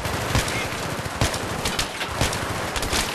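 Rapid gunfire in the video game Battlefield 3, a loud, dense run of automatic shots with sharper cracks standing out throughout, no talk heard.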